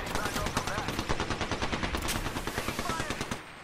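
Rapid automatic gunfire from the Apex Legends video game, a dense stream of close, loud shots rattling continuously for several seconds.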